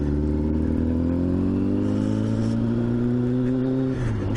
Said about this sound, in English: Still a little bit of spluttering, but that'll do for me